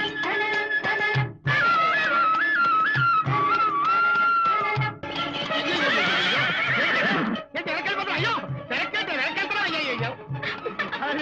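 A horse neighs loudly in repeated whinnies across the scene of a comedy film, layered over music and some background chatter.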